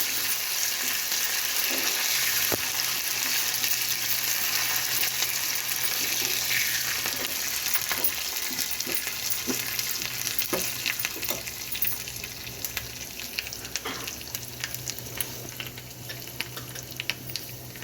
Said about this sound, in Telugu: కొంచెం ఫ్రై అయిన తర్వాత ఎండుమిర్చి 2, ఎండుమిర్చి, కళ్యామాకు